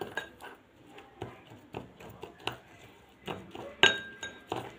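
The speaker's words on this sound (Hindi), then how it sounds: "और अब हमें इन सब को अच्छी तरीके से मिक्स करना है।" Homemade lip scrub ingredients, including honey, stirred together in a bowl, heard as a series of close clinks and taps of a utensil against glass at an irregular rhythm.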